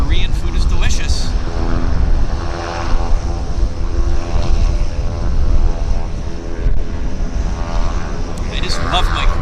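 A Boeing airliner lands at Vancouver YVR airport, its engines a loud, sustained roar that swells and holds close by throughout.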